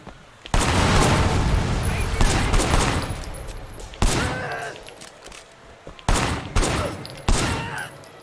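Loud, dense bursts of rapid gunfire in the video game Sleeping Dogs, coming in several separate volleys with short gaps between them, up close.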